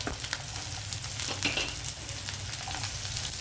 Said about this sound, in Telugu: ఇప్పుడు నేను ఉల్లిపాయలు వేసేస్తున్నాను